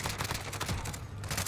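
Rapid bursts of Grau rifle gunfire in a video game, a fast automatic stream of shots, loud and dense, with no talk.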